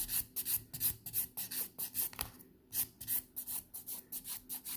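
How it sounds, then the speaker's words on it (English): Hand filing of pink and white acrylic nails, a rhythmic scratchy rasp in quick back-and-forth strokes, close and soft with a brief pause midway and no talking. "And just filing."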